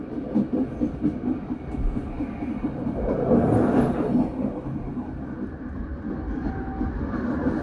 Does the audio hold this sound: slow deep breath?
no